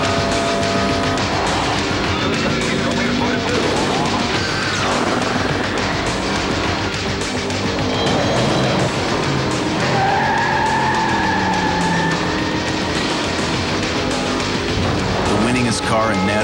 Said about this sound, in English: Introducing the race-modified Chevrolet Monte Carlo.